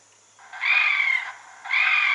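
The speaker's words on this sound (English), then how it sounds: "This is a coon in distress." Two drawn-out, raspy squealing cries from a raccoon distress call played on an Icotec 300 Gen 2 electronic predator caller, loud and close, separated by a brief pause.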